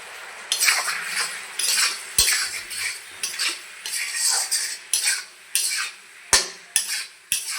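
A metal spoon stirs turmeric and cumin powder into a fish curry with potatoes and raw tomato, scraping and clinking against the pot in bursts of about a dozen strokes, with short pauses and a few sharp knocks.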